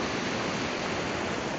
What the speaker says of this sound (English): it's pretty noisy with the water